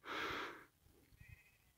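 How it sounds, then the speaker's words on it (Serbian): Sheep on the Kornati islands give one loud, close bleat lasting under a second, followed by quieter rustling and faint low thumps. "Eno ovce."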